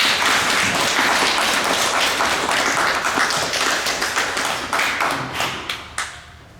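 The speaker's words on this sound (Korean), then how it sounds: "목사님께 큰 박수로 감사의 마음을 전하시겠습니다" A church congregation claps in thanks to the pastor during a Sunday worship service, sustained dense applause that thins into separate claps and fades out near the end.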